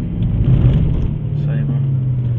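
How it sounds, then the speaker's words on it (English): A silver Porsche drives past on a lap, its engine a close, steady rumble lasting a couple of seconds. "silver Porsche out again."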